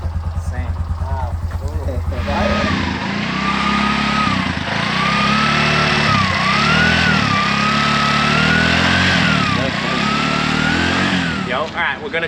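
A tuk tuk's small engine drones steadily while driving, pitch rising and falling as it accelerates and shifts, close and prominent throughout after a brief rattling start, with some talking.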